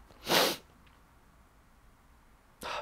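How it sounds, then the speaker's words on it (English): A single sharp sneeze bursts out close and loud at the start, followed by quiet and the onset of a second sneeze or snort at the very end. "Sneeze."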